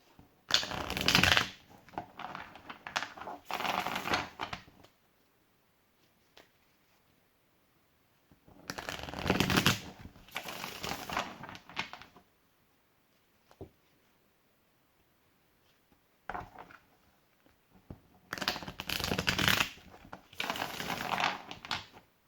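Bursts of tarot card shuffling, several riffles separated by quiet pauses, close and crisp with no voices.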